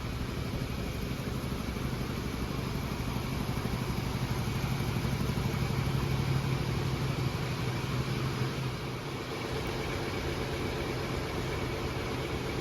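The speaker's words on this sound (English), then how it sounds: "In this corner back here, we have our air compressors and air receivers." Air compressors and air receivers running in a corner of a ship's engine room, a steady loud mechanical drone with a broadband hiss and a low hum that holds constant throughout.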